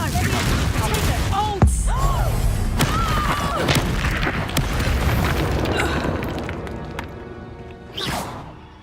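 A Confringo fire-blast spell explodes in Hogwarts Legacy, a loud booming impact with rumbling debris and whooshes that persists through the clip, with voices and game sounds mixed in.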